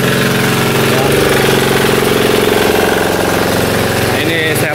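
A diesel-engine SHB high pressure washer rated at 186 bar runs loud and close, its steady rapid chugging drone with a rattling pulse continuing throughout, with a brief higher whine near the end.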